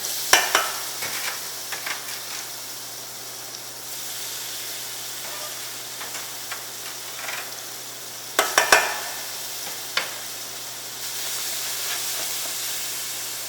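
Wild rice sautéing in a pan with salt and pepper, a soft steady sizzle and steam hiss with scattered spoon scrapes and a few sharper clattering stirs partway through, with no one talking.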